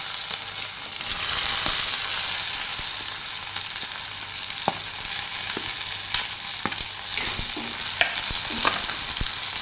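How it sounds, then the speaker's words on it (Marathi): Onions sautéing in hot oil with cumin, a loud dense hiss of frying that swells after the first second and stays steady, with scattered spatula clicks and taps against the pan close by, no voices. "कांदे मी आता दोन मिनिट तेलामध्ये परतून घेणार आहे"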